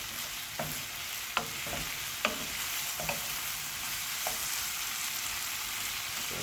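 Shrimp sear in a hot pan for Jamaican curry shrimp, giving a steady close sizzle with occasional sharp clacks of stirring, no talking.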